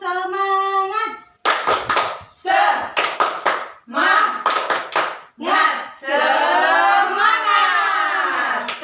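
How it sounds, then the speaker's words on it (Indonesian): Children in a second-grade classroom perform a rhythmic spirit clap, bursts of hand claps alternating with loud chanted group calls, close and lively, with a sustained shouted chant at the end. "Oke, tepuk semangat."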